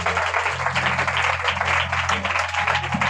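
A church congregation claps together in praise, a dense steady patter of many hands at moderate volume, carried over a low sustained hum.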